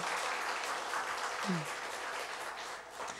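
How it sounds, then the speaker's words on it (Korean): A church congregation applauds during a Korean worship service, producing a dense, steady wash of clapping that carries on for the whole stretch at moderate volume, with no clear voice standing out above it. "하나님께 감사의 영광의 박수 한번 드리겠습니다"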